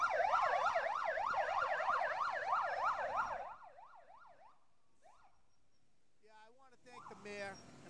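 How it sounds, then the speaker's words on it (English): Wailing police sirens from the Brockton Police Motorcycle Unit at a holiday parade, loud and steady for several seconds before cutting off, followed by brief siren chirps and crowd noise. "here come the Brockton Police Motorcycle Unit that came in under Mayor Carpenter"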